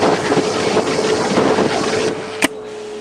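A vacuum hood runs with a steady mechanical whir and hum at close range, then stops abruptly with a sharp click; no talk.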